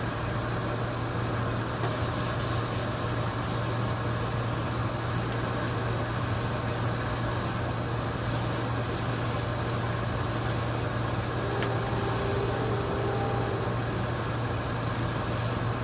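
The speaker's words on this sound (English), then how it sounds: "These was really hard to sand also." Steady abrasive rubbing of sandpaper on trim strips from an old American Bosch radio, continuous and fairly loud under a constant low hum, with no voices.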